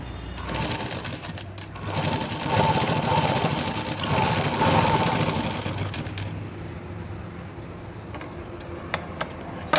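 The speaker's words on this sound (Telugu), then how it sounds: "మళ్ళీ టాప్ స్టిచ్ చేయండి కంపల్సరీ." A sewing machine top-stitches a shoulder seam on a garment, a dense, steady mechanical whir running loud for about six seconds before easing into quieter running with a few sharp clicks.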